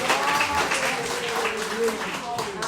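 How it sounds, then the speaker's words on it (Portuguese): A church congregation claps during a service, with the applause running under a speaking voice and sustained musical tones throughout the short stretch. "Uma salva de palmas para vocês."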